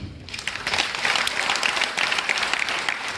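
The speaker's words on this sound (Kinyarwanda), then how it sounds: "Imana amashyi cyane" A gathering at a religious youth event in Bugesera breaks into applause, starting quieter and swelling within half a second into a sustained, crackling patter of many hands clapping together.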